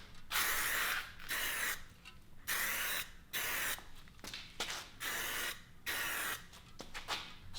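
Spray gun applying Superwrap gloss black coating to a car wheel, a loud hissing spray in repeated bursts of about a second each, separated by short pauses.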